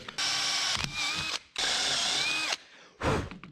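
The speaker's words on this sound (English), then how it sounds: "Drill that out big enough for that screw to drop down in." Power drill whirring in three bursts, two long and one short, drilling a screw hole in wood, with a brief pause between each, close and fairly loud.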